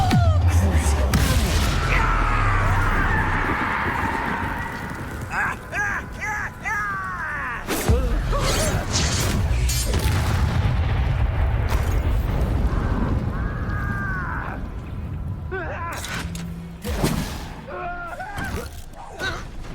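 Confringo fire spell exploding in Hogwarts Legacy amid a duel with other spell casts, rumbling blasts and whooshing magical bursts over a busy game soundscape, loud, with game character voices speaking.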